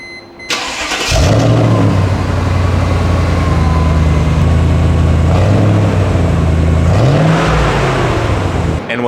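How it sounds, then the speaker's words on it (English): A Mercedes AMG W202 DTM V8 fires on a cold start with a sharp starter catch, then settles into a loud, steady, deep idle that rises briefly in a mid-clip blip before easing back down. "let's give you guys a cold start."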